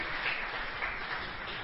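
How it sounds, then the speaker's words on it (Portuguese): A church congregation applauds in a steady, faint wash of clapping from many hands, with no distinct voices over it. "Você pode aplaudir o Senhor mais uma vez"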